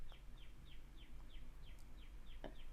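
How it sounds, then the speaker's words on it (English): Bird gives a loud, repeated call close by, regular short downward chirps about every third of a second, over a steady low background hum, with no speech. "Do y'all hear this bird? This bird is so loud while I'm talking."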